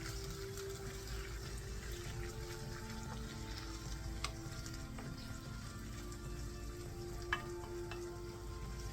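Butter chicken curry with tomato puree sizzles and bubbles steadily in a pan while it is stirred, a soft continuous frying hiss with a few faint utensil clicks, no voices.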